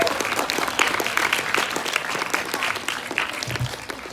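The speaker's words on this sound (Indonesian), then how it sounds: "berikan tepuk tangan yang meriah untuk tampilan drama musikal ilustrasi Palestina dan Israel." An audience at a junior high school event applauds a musical drama performance, a dense, sustained wash of clapping from many hands that gradually thins toward the end.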